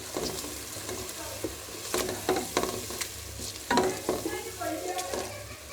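Garlic paste sizzles loudly in a hot pan while a spoon stirs and scrapes through it in uneven bursts.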